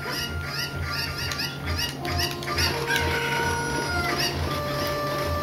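Cuccos in Zelda: Ocarina of Time give repeated short clucks and squawks over looping game music, with a few rising squeaky tones layered in, steady and close.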